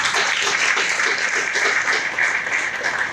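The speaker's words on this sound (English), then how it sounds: "I want to give you a round of applause." A room of community workers and guests at a ribbon cutting ceremony breaks into steady, full applause, many hands clapping continuously and evenly at close range with no talk over it.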